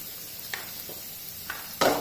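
Ginger garlic paste with green chilies and onions hitting a hot pan for South Indian tomato rice, giving a soft steady sizzle with a few light clinks and a brief louder burst near the end.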